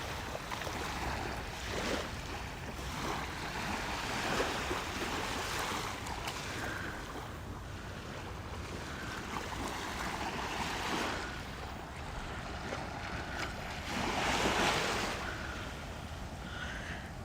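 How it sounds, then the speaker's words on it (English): Gentle waves wash and lap along Ettalong Beach, a soft, continuous rush with occasional louder surges and light wind, heard alone without any voices. "Just stop and pause and listen to the water for a moment."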